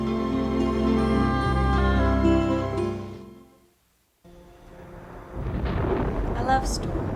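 Thunder from a nighttime thunderstorm rolls in as a broad, rumbling wash that grows louder toward the end, after a stretch of steady tonal sound and a brief near-silent gap.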